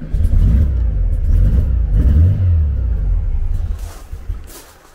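A car engine fitted with Weber IDF carburettors whose idle jets are blocked, running with a loud, steady rumble and rising revs, then easing off and fading toward the end.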